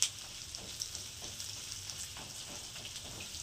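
Egg frying in a small amount of oil in a pan, a steady close crackling sizzle with no voices.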